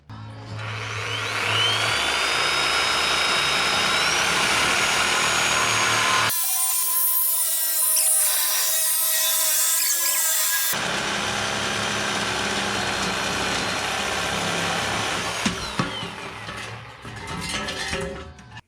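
A power tool saws through a steel exhaust pipe during a 7.3 Powerstroke turbo diesel swap from a 5-inch to a 4-inch exhaust, grinding loudly and steadily with a brief high-pitched screech partway through.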